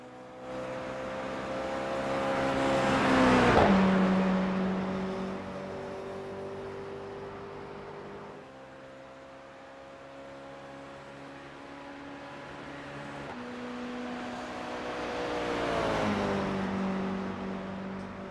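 Race car, apparently a Toyota 86, lapping the Road Atlanta circuit, its engine rising and falling through gear changes as it passes twice, loud on each approach and fading between.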